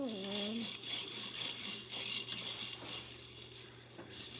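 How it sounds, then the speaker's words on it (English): A utensil scrapes and rubs continuously against a container of ice water with some solid ice pieces still floating, a steady gritty swishing with no pauses. "keep stirring"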